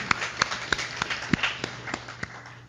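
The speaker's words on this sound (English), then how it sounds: "I want you to give yourselves a round of applause. Come on. Clap your hands for yourself." An audience at a Wayne County Republican Party gathering claps in a sparse, evenly spaced rhythm of sharp hand claps, moderately quiet and slightly distant, over a low room hum.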